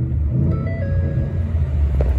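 A 2011 Ford F-150 pickup idles steadily just after starting, a deep, continuous low engine rumble that holds even and close throughout with no speech.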